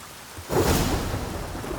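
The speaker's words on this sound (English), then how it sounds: "Rain again." Rain pours steadily in The Witcher 3: Wild Hunt, a low rumble of thunder swelling in after a quiet start and the downpour holding on as a dense hiss.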